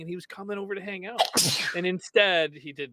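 A single loud, close sneeze bursts out in the middle of a man's ongoing speech, with talking immediately before and after it.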